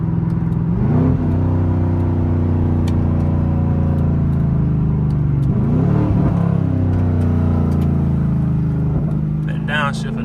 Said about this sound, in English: That downshift will never get old.